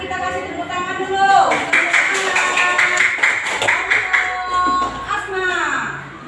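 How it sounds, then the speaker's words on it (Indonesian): Indonesian classroom students clapping together on cue, a burst of rapid handclaps lasting several seconds, with a teacher and children talking over and around the applause. "Sekarang kita kasih tepuk tangan dulu."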